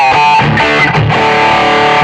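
Yamaha Pacifica electric guitar through a Zoom G3X multi-effects intro patch, played loud and continuous with a thick, distorted, sustained chordal tone.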